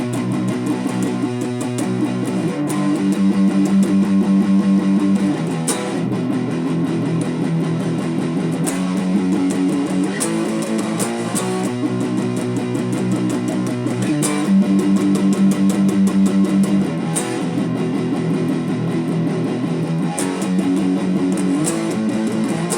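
Electric guitar chugs out the rhythm part under the solo of a song, a driving, continuous pattern of fast picked chords with recurring accents, loud and close with no talking.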